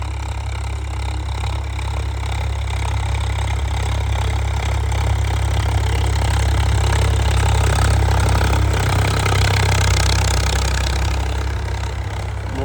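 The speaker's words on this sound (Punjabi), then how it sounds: "ਆ ਆਪਣਾ ਟਰੈਕਟਰ 50 ਬਾਈ ਤੀਜੇ ਆਈ ਜਾਂਦਾ ਪਿਆ ਸੁਹਾਗੇ ਦੇ" A 50 hp tractor engine rumbles steadily and loudly at close range in a field, pulling a plank leveller in third gear, a continuous heavy drone with a slight swell partway through.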